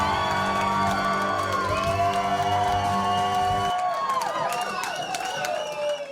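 A studio audience at The Gong Show cheers, whoops and claps for a contestant. The cheering is loud and sustained, with high shrieking whoops rising over the noise toward the end.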